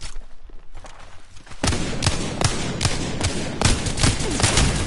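Rapid, steady volleys of gunfire in a video game firefight, starting quieter and then turning loud and continuous with sharp repeated shots and thuds, with no clear talk over them.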